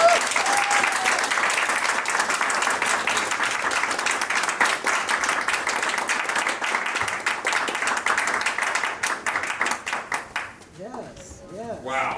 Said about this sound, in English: Please, big family, give me a sounding applause for Mr. Medlock.